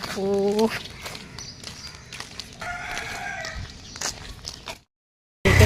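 A rooster crows loudly at the start, followed by clucking and other farmyard noises, with people talking nearby before a sudden cutoff.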